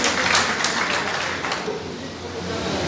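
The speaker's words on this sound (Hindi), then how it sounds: "ताली बजा करके स्वागत करिए" Applause from an audience at a political party meeting: a brief burst of clapping from a crowd, fairly loud and dense, fading slightly after the first couple of seconds.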